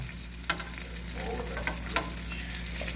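Swedish meatballs brown in a frying pan, a continuous low sizzle broken by three or four sharp clacks and scrapes as they are turned and stirred, close and fairly quiet.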